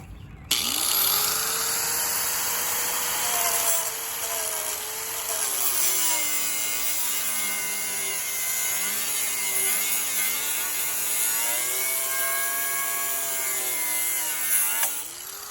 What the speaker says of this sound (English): An angle grinder seems to just bring out a lot more smoke to the shell.